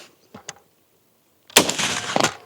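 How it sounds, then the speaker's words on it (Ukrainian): A couple of faint clicks, then one sharp, loud AK rifle gunshot bursts out close by and trails off in a brief echo. "Постріл."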